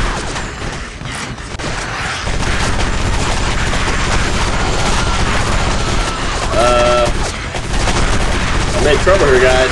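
Rapid automatic gunfire from a video game firefight against monsters, loud and dense, with sustained bursts rattling through the whole stretch and brief electronic tones cutting in near the end.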